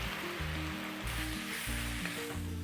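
Leftover chips stir-frying in a hot pan with Mak Tok sweet chili paste and soy sauce, a steady close sizzle with repeated low thumping stirs throughout, no voices.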